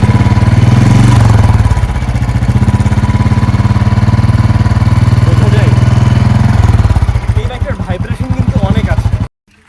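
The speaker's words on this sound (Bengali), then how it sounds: "এ বাইকটা এত পরিমাণে ভাইব্রেট করে" A Royal Enfield Classic 350cc motorcycle engine idles loudly up close with a steady, throbbing rumble and rattling vibration, briefly revving before cutting off at the end.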